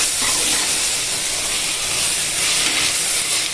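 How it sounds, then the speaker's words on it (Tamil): Ground ginger-garlic paste frying in a pan for tomato rice gives a loud, steady sizzle and hiss throughout, with no talking. "நம்ம அரைச்சி வச்சுருக்க இஞ்சி பூண்டு பேஸ்ட்டு போட்டு இஞ்சி பூண்டு வாசம் போகிற அளவுக்கு கொஞ்சம் நம்ம வதக்கிக்கலாங்க."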